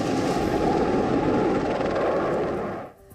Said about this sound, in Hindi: भारतीय सेना के बेड़े से चेतक और चीता हेलीकॉप्टर की जगह अपाचे हेलीकॉप्टर लेंगे